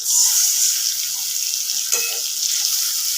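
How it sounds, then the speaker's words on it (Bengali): Water rinsed from a mixer grinder jar pours into a pan of frying spiced potato curry, a steady hissing sizzle with a brief splash partway through and no talk. "মিক্সির বাটিটা একটু আমি ধুয়ে জলটা এর মধ্যে দিয়ে দেব।"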